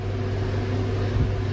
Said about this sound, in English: you will hear the battery vehicle's fan start to rev up